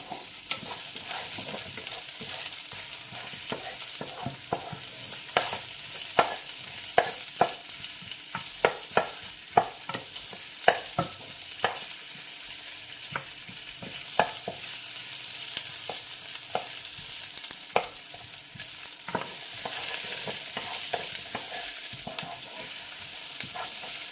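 Food sautéing in a pan for chicken afritada, a continuous sizzle broken by frequent sharp scrapes and taps of a spoon stirring, close and without speech throughout.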